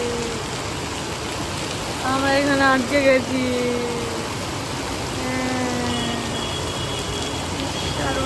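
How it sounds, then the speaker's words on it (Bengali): Heavy rain pours down in a steady, dense hiss throughout, heard from shelter under a railway station, with a person briefly speaking partway through. "এত বৃষ্টি পড়ছে বাইরে, স্টেশনের নিচে দাঁড়ালাম"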